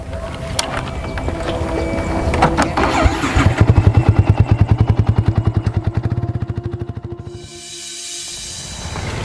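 An Indonesian motorcycle engine cranks and fires up, settling into a loud, steady rhythmic idle before cutting off, with no talk over it.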